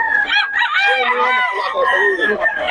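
A Sweater-breed gamecock rooster gives a harsh, strained crow close by, a few seconds of raspy harmonic calling that may overlap with people's voices.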